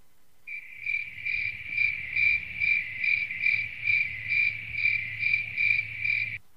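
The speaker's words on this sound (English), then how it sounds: "I wish I had your cricket noise." Steady cricket chirping: about a dozen evenly spaced pulsed trills, close and clear, over a low background hum with no voices.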